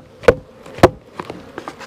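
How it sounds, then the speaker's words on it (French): Two sharp knocks on a wooden beehive nucleus box sound close and loud, followed by softer taps and light buzzing from bees stirring inside. "donc je vais la tapoter un coup pour que les abeilles sortent"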